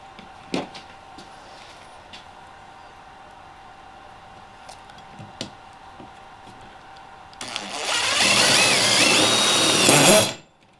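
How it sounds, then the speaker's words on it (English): Quiet clinking and shuffling, then a loud power drill grinds into metal for about three seconds before stopping abruptly. "Drilling into metal. Lots of fun, loud noises."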